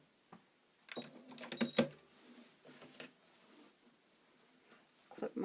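A sewing machine back stitches at the end of a side seam, making a few quick mechanical bursts with soft ticking and handling noise between them. Fairly quiet and close, with no speech.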